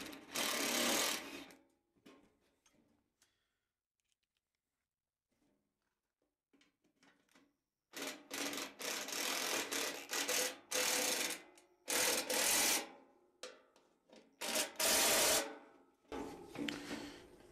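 Heavy duty sheet metal screws driven into the metal case of a Lincoln welder with a power driver, a run of loud whirring bursts separated by pauses and quieter handling noises.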